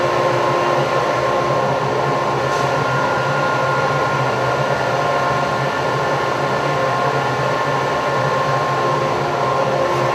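Workshop dust collector running steadily with its filter bag inflated, a loud continuous whooshing hum with a fixed motor tone and no pauses for the full length.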